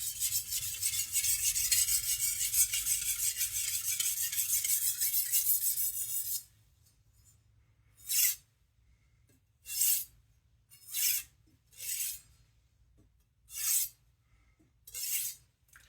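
A blade is sharpened on a coarse 1K whetstone: a long continuous gritty rasp, then a series of short separate scraping strokes with quiet gaps between them, close and clear.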